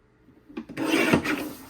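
Scrapbook paper from a monthly page kit being trimmed with a paper trimmer, a short rough slide and scrape after a brief tap, close and clear, with no voices.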